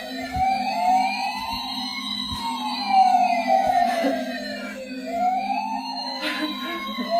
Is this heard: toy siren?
yes